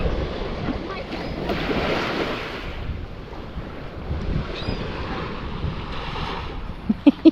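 Surf rolls onto Sunset Beach with a broad, continuous wash and wind rumble, swelling and easing as waves break close by, ending with a few sharp knocks.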